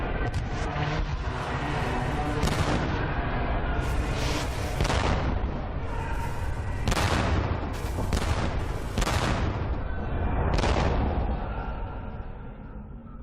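Battlefield cannon fire rolls on in a series of heavy booms, about eight blasts at irregular intervals over a continuous rumbling din, loud and close.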